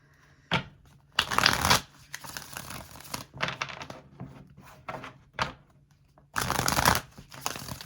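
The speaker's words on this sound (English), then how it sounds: "Let me pull some other cards." Tarot cards are shuffled in several quick papery bursts, each riffle a short crisp flutter separated by softer handling and brief pauses, close and fairly quiet.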